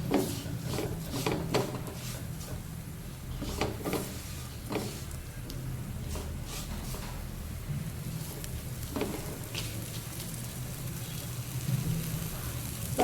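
Coriander is stirred into a roasting dal mixture in a pan, with a soft sizzle running throughout and repeated scraping, rubbing strokes of a spoon against the pan.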